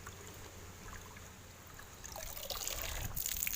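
Water trickles and dribbles steadily from a leaky cup outdoors, a soft continuous flow that grows louder and splashier toward the end.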